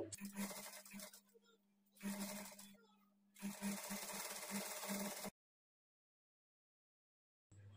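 A sewing machine stitches a blouse in three bursts with a humming motor tone. Each run lasts one to two seconds, with quiet gaps between them, before the machine falls silent.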